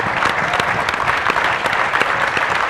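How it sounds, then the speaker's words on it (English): Steady applause from a crowd, dense clapping that holds at an even level for a few seconds with no voices on top. "she deserves a round of applause"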